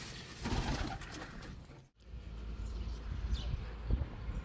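Racing pigeons coo softly amid rustling and flapping noises, with a brief pause in the middle before the birds continue nearby.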